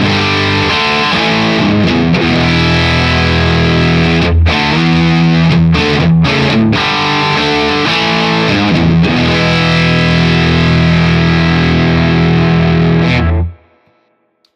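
Heavily distorted electric guitar chords ring out loud and continuous with a few brief breaks, then stop abruptly into silence.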